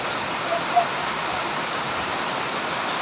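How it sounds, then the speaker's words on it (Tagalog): Heavy rain falls as a steady, dense, broadband hiss with no clear rhythm, with a faint short knock partway through. "lakas ng ulan na to"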